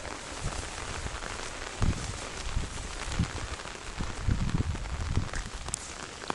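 Heavy downpour in a forest during a midsummer mushroom hunt, rain hissing steadily and densely on leaves close around, with footsteps crunching underfoot and a few louder knocks of drops or steps.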